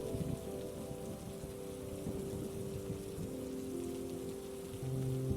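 Steady rain falls on a hard surface, a soft continuous patter with low sustained tones faintly beneath it, constant throughout without speech.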